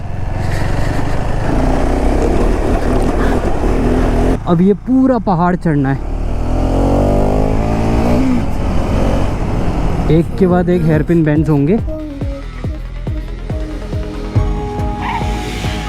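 KTM 390 Enduro motorcycle climbing a mountain road of hairpin bends in Arunachal Pradesh, its engine revving up and down loudly and close throughout while a rider talks over it.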